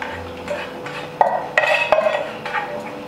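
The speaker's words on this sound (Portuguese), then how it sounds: "Eu pego um pouquinho do caldo do feijão e limpo a panela aqui" A metal spoon scrapes and clinks around the inside of a cooking pot as a little bean broth is swirled in to loosen leftover garlic, giving a few sharp clanks and rubbing scrapes up close in a home kitchen.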